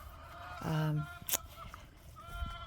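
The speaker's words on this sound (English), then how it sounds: "Believe it or not, that's a hen." A hen gives a loud honking call, a short harsh burst followed by a sharp click and fainter rustling, heard outdoors on a farm with no talk over it.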